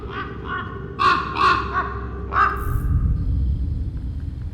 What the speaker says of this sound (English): there we go with the crows again